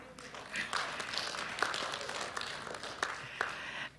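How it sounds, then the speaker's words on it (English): Audience applause at an annual church meeting, a dense patter of clapping from a crowd that holds steady throughout, with a few sharper claps standing out. "That deserves a round of applause."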